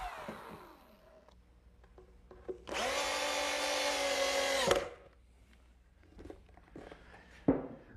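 A power drill drives drywall screws into a wooden sawhorse gusset in one sustained, close whirring burst of about two seconds, bracketed by quieter handling knocks and clicks.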